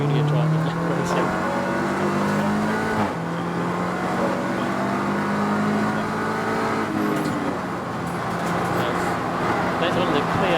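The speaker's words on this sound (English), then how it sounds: "There's one of the Clio Cup cars across the line." Race cars, including a Clio Cup car, circling Snetterton circuit in a loud, continuous engine drone with rising and falling pitch as they pass, under steady commentary.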